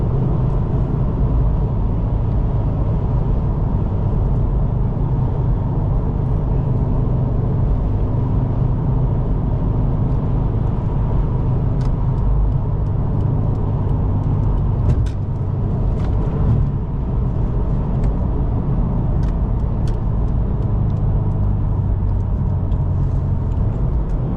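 Stock Subaru WRX driving at night, a loud continuous engine drone and road rumble from inside the cabin, steady throughout with faint ticks and knocks from the car.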